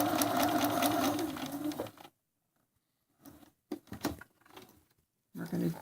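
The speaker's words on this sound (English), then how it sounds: "You're going to sew to there. You're going to stop." Sewing machine stitches a seam in a quick rhythmic whir for about two seconds, then stops; afterwards come short rustles and handling sounds while someone speaks.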